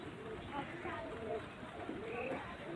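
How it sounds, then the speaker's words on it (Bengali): Pigeons, a male and a female giribaz pair, give soft, low cooing calls that stay faint and steady under a quiet voice. "এটা নর পায়রা"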